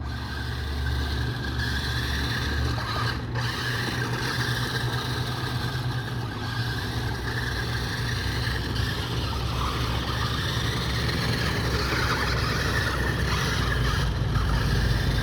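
A toy-grade RC monster truck drives around, its small electric motor giving a steady, continuous whine and rumble at close range with no talking.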